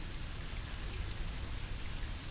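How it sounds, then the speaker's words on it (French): Steady rain in the horror video game Song of Horror, a dense, even hiss of falling drops that runs unbroken from start to finish with no voices. "on n'a plus un bruit aigu, on a un bruit de pluie"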